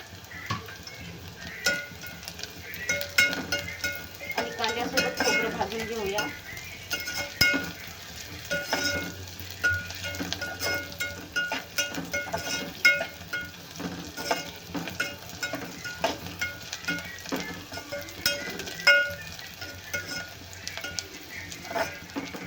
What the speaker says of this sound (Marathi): कांदा छान भाजत आहे त्याच्यामध्येच आपण खोबरं पण घालून घेऊया